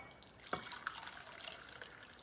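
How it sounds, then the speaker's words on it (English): Liquid jelly poured into a trifle dish for a low-syn trifle, giving quiet wet splashing and drips with a brief louder splash near the start, over a faint room hiss. "Jelly's done. So I'm going to pour that in there."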